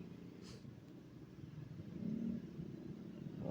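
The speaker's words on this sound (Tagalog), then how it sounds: "Dami talaga sasakyan pag ganitong umaga." Steady low rumble of morning traffic, cars and motorcycles passing on a road, with a moderately loud swell of a passing vehicle midway and constant engine drone throughout.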